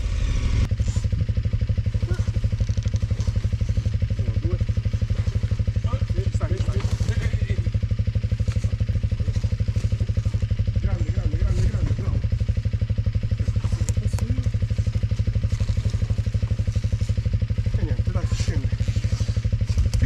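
A KTM 1290 Super Adventure R motorcycle idles and churns off-road in mud with a spinning rear tyre, a loud steady thumping engine drone close by, with scattered clatter and crackle over it.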